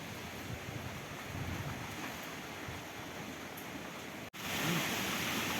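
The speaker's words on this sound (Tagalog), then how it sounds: "Lakas ng hangin oh, kitang kita nyo" Strong typhoon wind roars in a constant rush with sea waves surging beneath it, briefly cutting out and then returning louder.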